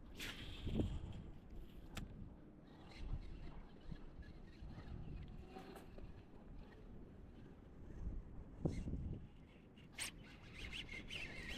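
Wind gusting across open water while bass fishing on a cold, blustery day, a rough rumbling buffet against the microphone with scattered knocks and rubs from a boat, continuous and close.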